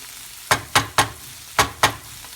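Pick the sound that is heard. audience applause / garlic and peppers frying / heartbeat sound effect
garlic and peppers frying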